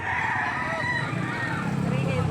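Rooster at a chicken market in Lipa City, Batangas crows clearly and close, a drawn-out call over steady market bustle and murmuring voices.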